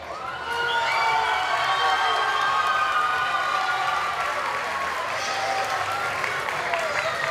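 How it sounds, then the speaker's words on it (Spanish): Audience at a university environmental engineering week event applauds and cheers an award winner, a loud sustained wash of clapping mixed with shouts and cheers that continues steadily for several seconds. "¡Fuertes aplausos para la plomante ganadora!"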